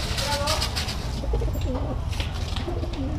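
Racing pigeons coo softly and repeatedly at close range, low throaty calls over a steady background murmur.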